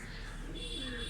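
Domestic pigeons, a breeding pair, coo softly and low in a brief stretch, close up with faint background noise.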